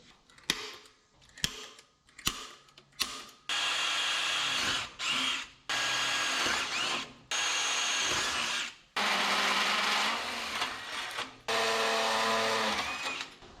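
A power drill bores holes in a steel plate during a custom hitch and flatbed build for a 1963 Loadstar truck, short bursts first, then long whining runs of grinding metal, close and loud without talk.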